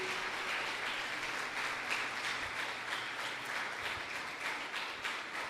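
Church congregation at a Baptist evangelical service applauds its cell group leaders, steady sustained clapping from a room full of people at moderate volume, continuing evenly with no talk over it.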